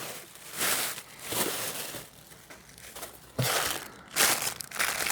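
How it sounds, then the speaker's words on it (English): Bags of old stamps torn off envelopes being handled, giving repeated dry crinkling and rustling bursts of paper and plastic close by, rising and falling over a few seconds with no talk. "Bags full of stamps just torn off envelopes. Bags and bags of them."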